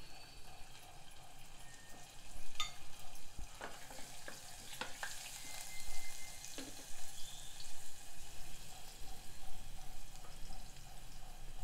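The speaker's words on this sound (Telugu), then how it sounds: "జీలకర్ర కొంచెం వేగనివ్వాలి." Cumin, cloves, cinnamon and grated ginger frying in a pan for barley khichdi, a quiet steady sizzle with scattered crackles and a few utensil scrapes.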